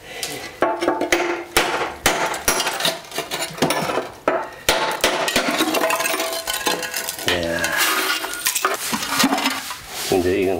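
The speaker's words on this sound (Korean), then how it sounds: "작가가 무질서를 향한 망치질을 서두르고 있습니다" A sculptor hammers and smashes ceramic cups for a large cup-built artwork, loud repeated sharp strikes and crashes of breaking pottery with rattling, clinking shards between blows, heard close with no talk.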